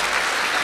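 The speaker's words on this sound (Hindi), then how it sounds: "जोरदार तालियां हो जाए" A brief, dense burst of audience applause at a Hindi poetry gathering, the Shri Ram Kavi Sammelan, fills the whole short moment at an even level.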